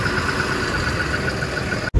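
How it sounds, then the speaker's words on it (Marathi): A delivery truck engine idling, a steady close mechanical hum with an even pulsing tone that cuts off abruptly just before the end. "इंजिनचा साऊंड बघा ना"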